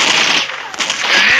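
Rapid gunfire from the Mini Militia mobile shooter game, a hacked version, crackling in dense bursts with brief gaps, loud and close throughout.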